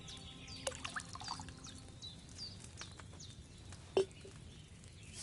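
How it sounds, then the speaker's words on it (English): Wine pours from a pitcher into a cauldron in Kingdom Come: Deliverance 2, a quiet liquid trickle with scattered small clinks and one brief louder splash. "First, you have to pour the right base into the cauldron."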